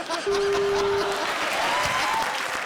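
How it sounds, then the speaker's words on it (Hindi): Studio audience applause for Prince on a comedy show: dense, loud clapping filling the stretch, with a brief sustained musical tone near the start and a faint voice underneath. "जोरदार तालियां प्रिंस के लिए"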